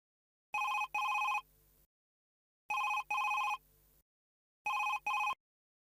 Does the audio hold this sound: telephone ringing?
yes